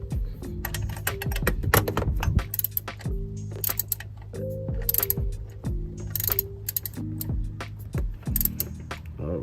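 A ratchet tightens a bolt on the belt of a 2009 Chevy Colorado, giving repeated quick bursts of clicking with short pauses between strokes, close up and fairly loud.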